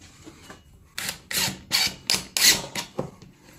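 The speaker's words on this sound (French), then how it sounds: "Donc je visse mes rails au sol." Short bursts of a drill screwing metal drywall rails to the floor, several quick spins in a row with brief pauses between them, close and fairly loud.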